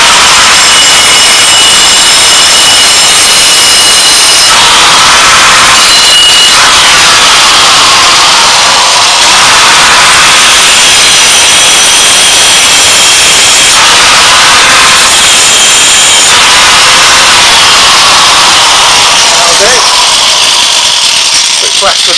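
An angle grinder cuts through steel plate being prepared for footboards: a loud, close, harsh high-pitched screech that runs almost continuously for the whole stretch, shifting in tone as the cut changes direction, with no talk over it.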